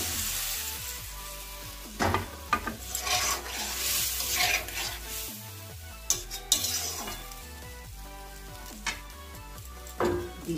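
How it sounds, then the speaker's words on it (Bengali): Fried eggs and potatoes are stirred into spices in a wok for a Bengali-style egg and potato curry, with a spatula scraping and clinking against the pan in bursts over steady background music. "ডিম আলুটা ভেজে রেখেছিলাম, কড়াই দিয়ে দিচ্ছি মশলার সঙ্গে।"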